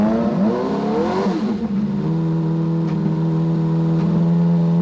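A 1992 Lola turbocharged Indycar engine warming up, a loud close idle with a rich harmonic drone that briefly swells and rises in pitch before settling back to a steady rumble.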